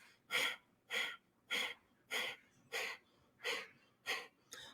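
Eight sharp, forceful breaths are pushed out in a steady rhythm, each a loud whooshing exhale close to the ear with brief quiet between.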